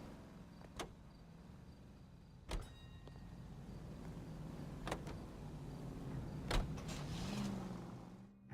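Car in the video game L.A. Noire driving with a steady low engine drone and road hum, broken by a few sharp clicks and thumps and a rising whine near the end, no talking.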